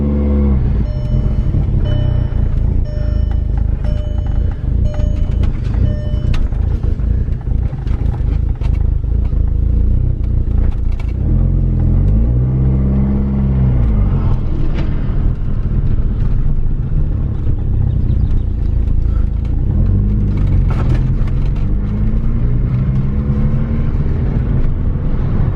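Mk4 Volkswagen GTI engine idling steadily with a raspy exhaust leak, a loud constant rumble that swells briefly into a couple of revs midway and again near the end, with some clatter and a faint beeping tone early on.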